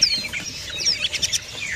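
A hand-reared kedasi cuckoo chick calls with shrill, rapid bursts, close and fairly loud, with thin high chirps overlapping throughout.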